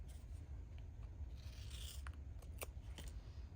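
Scissors trimming a washi sticker flower at a craft table, several short close snips and paper rustles, fairly quiet with no talking.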